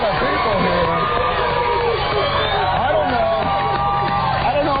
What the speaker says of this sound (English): We got a crowd of people here